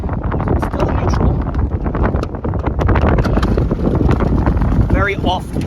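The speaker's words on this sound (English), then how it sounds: "the wind is not gonna be fun to me" Gusty wind buffets the microphone aboard a small boat with a 1989 Yamaha Mariner 30hp outboard, a loud, rough roar throughout with a person talking over it.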